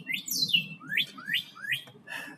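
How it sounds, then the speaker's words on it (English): Several bright chirps and rising tweets from birds outdoors, a clear call followed by three quick upswept notes over a low murmur of background noise, fairly close and distinct. "Yeah, we got birds in the background watching me."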